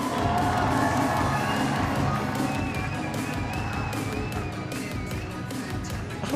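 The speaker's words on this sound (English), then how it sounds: "Let's clap your hand louder!" A crowd at Rajadamnern stadium during a live Muay Thai fight night cheering and clapping, a loud dense roar with rapid claps and shouts, a high whistle-like tone drifting above.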